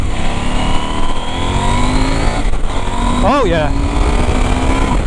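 A KTM 790 Adventure motorcycle being ridden in winter gives a steady, close engine drone mixed with wind rush throughout, and the rider briefly speaks over it.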